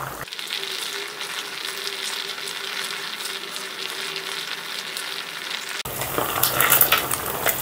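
Cornflour frying in dirty, darkened cooking oil as it is cleaned, a steady close crackling sizzle with scraping stirring clicks, growing louder and harsher near the end.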